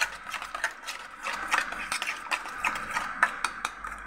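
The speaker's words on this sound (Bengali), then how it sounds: "এখন ভালো করে ফেটিয়ে গুলে নিচ্ছি ডিম দুটো।" Two eggs with onion, green chili and salt are beaten by hand, a quick, rhythmic run of light clicking and tapping strokes heard close up and fairly quiet.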